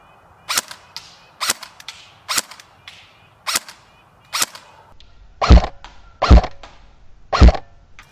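A used airsoft gun fires eight sharp, loud, close shots, evenly spaced about one second apart, with the last three heavier and more booming than the first five, and no talking over them.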